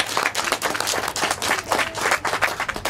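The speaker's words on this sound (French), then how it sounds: "On peut applaudir aussi." A small group claps steadily, a warm patter of applause that continues evenly throughout.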